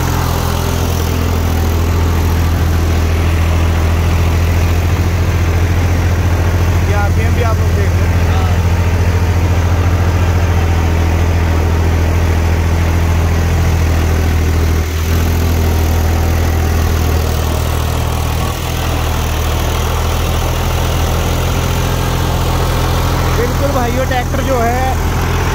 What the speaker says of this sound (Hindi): अच्छी तरीके से चल रहा है, कोई फालतू का लोड नहीं ले रहा है ट्रैक्टर